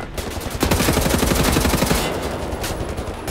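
Rapid bursts of gunfire in Wolfenstein: The New Order, a fast automatic rattle in the middle with sharper single shots around it, loud and close.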